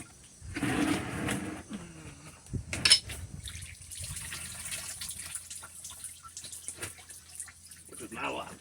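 Coolant water drains and splashes out of an engine's cooling system during a timing job, a running trickle with sputtering bursts, while a voice talks over it.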